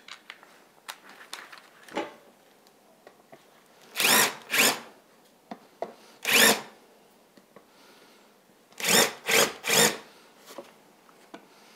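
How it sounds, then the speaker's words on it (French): A power drill bores countersink chamfers into wooden planks for screw heads while building a lamp, sounding in several loud, short whirring bursts between quieter scrapes and handling noise. "je vais faire donc un petit chanfrein pour insérer les têtes de vis"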